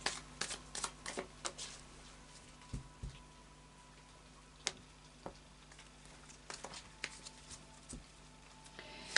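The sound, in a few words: shuffling Tarot of Dreams cards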